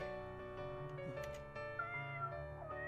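A cat meows in the video game Steam Prison, a few faint, drawn-out cries heard over a soft sustained musical background, with no one talking.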